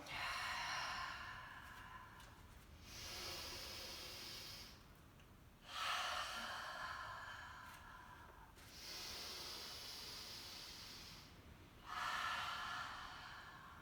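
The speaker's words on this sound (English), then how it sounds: "Take a breath in. Open mouth, exhale." Three slow, breathy exhalations through an open mouth during a gentle postpartum yoga flow, each a long airy whoosh separated by quieter inhales in a calm room.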